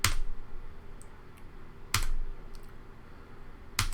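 Computer keyboard keys are pressed in three sharp, separate clicks spaced about two seconds apart, close and crisp over a low background hum.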